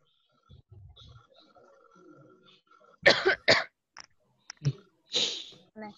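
A few sharp coughs break the quiet of a video conference room, two strong bursts close together followed by a couple of smaller ones, after a stretch of faint background murmur.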